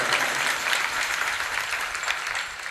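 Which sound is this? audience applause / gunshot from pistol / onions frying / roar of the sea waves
audience applause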